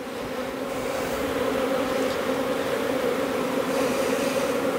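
Honeybees hum in a steady, dense drone around an opened hive during an inspection, a continuous close buzz with no voices over it.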